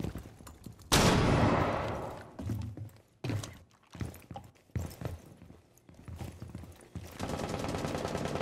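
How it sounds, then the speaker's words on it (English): A flashbang grenade detonates in a first-person shooter, a sudden loud blast that rings and fades, followed by scattered sharp game impacts and shots, ending in a steady noisy wash, with no voice. "Flashbang!"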